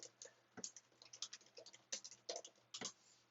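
Fast typing on a computer keyboard while entering an SSH terminal command, a quiet, close run of irregular clicky keystrokes with a few louder taps, over a faint steady hum and no talking.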